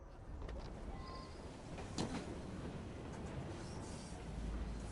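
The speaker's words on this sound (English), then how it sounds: "Well, it's a noisy train." A noisy passenger train in the video game Assassin's Creed Syndicate gives a steady, dense rumble and rattle throughout, with a brief metallic clunk near the middle and no speech.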